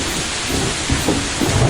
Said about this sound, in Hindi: अचानक बारिश और भी तेज हो गई। कड़कड़ाती बिजली आसमान को